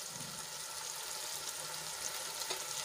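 Turmeric stirred into softened tomatoes in a pan while cooking, a steady soft sizzle and light frying crackle running throughout with faint stirring scrapes, no voices.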